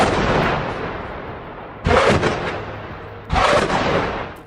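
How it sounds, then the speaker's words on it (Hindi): 107 mm rockets fired in Gaza, heard as three loud, close launch blasts, each a sharp whooshing roar that fades away over a second or more, with the last two spaced about a second and a half apart. "यहाँ पर मुस्तफ़ा ब्रिगेड ने आईडीएफ पर 107 mm वाले रॉकेट फायर किए हैं।"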